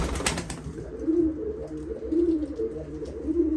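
Sivas white pigeons coo in soft, repeated low phrases, several calls in a row at a moderate distance, alone over a faint background hum.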